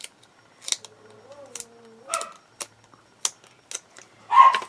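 Scissors cut through cardboard strips in a series of sharp, separate snips with short pauses between them, close and fairly loud, and no voices.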